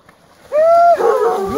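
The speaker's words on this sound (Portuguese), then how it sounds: "O cachorro pegou aqui dentro do rio os porcos" Hunting dogs bay at wild boars in a river, a loud, sustained close howl followed by rougher yelping barks, with faint ambient noise before it.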